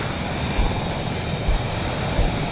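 A jet afterburner in the VTOL VR flight game roars steadily, a dense, loud, continuous broadband rumble with faint low thumps.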